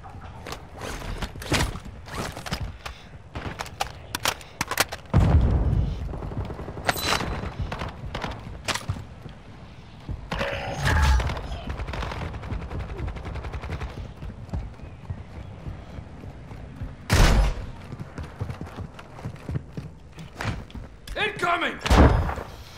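Mid-caliber gunfire in Call of Duty DMZ, scattered sharp bursts and heavy thuds, some close and loud, others fainter, with talking between them.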